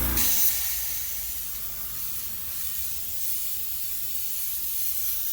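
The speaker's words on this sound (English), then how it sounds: "I'm gonna let the overspray hit it." Spray paint overspray drifts onto a white canvas, giving a steady, close hiss that starts with a slightly louder burst and then continues evenly without a break and without talking.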